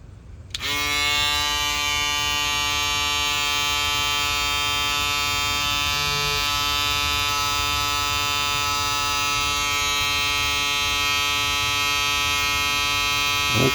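A Magnifeko 100xx electric foil shaver runs steadily and loudly for the whole stretch, a close, constant motor buzz with a bright, sustained whine.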